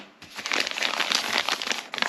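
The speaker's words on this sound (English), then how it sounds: "Let's get this sort of high quality plastic here. Plastic bag." Plastic bag from microphone packaging crinkles and rustles up close, loud and continuous for about two seconds after a brief quiet start.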